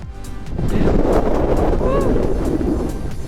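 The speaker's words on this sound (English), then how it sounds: "It's kind of windy in certain spots and then less windy in others." Wind gusts roar across a snowy mountain summit at Donner Summit, Lake Tahoe, as a loud, steady rush buffets the microphone for several seconds, with a voice briefly heard.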